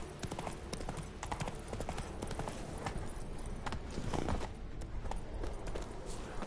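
Geralt's horse Roach trots in The Witcher 3, a quick steady run of hoof clip-clops over ambient game sound, moderately close and continuous throughout.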